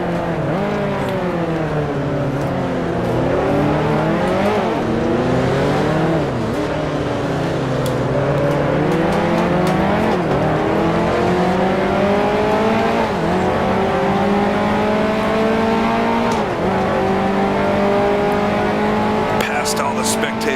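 A Ferrari 625 race car engine roars in Grand Prix Legends, loud and continuous, its pitch climbing and dropping through gear changes on a 1955 Formula One circuit, with a voice talking over it.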